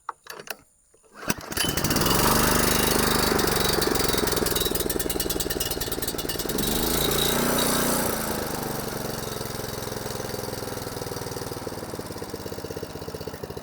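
A DR Premier 26 brush mower engine is cranked on choke and starts after a brief tug, then settles into a loud, steady, rough mechanical roar up close that holds for over ten seconds with no talk.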